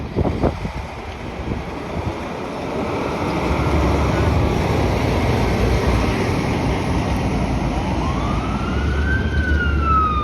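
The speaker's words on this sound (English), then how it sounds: "I'm hearing sirens." A fire truck siren rises and sweeps through the background of steady outdoor city noise and wind in midtown Toronto, arriving near the end of the clip.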